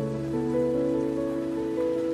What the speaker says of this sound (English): Soon, it started raining.